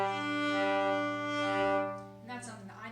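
A viola double stop on open strings, bowed as one smooth sustained tone for about two seconds, close and full, then fading into a brief murmur of voice.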